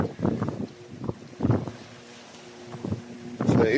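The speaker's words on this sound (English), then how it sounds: "So it is a bit windy up here at the moment" Gusty wind buffets the microphone on open, exposed ground near an old barn, coming in low rumbling bursts with calmer gaps between them.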